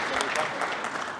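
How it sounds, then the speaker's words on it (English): Steady applause from a crowd at an ASHRAE chapter debate event, dense and continuous clapping throughout at moderate loudness. "Big round of applause for both for stepping up."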